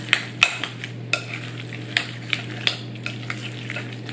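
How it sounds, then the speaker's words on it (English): Tomato and honey citrus pork nacho topping stirred in a pan: a spatula scrapes and taps in a series of sharp, close strokes over a steady low sizzle and hum. "And just one more stir"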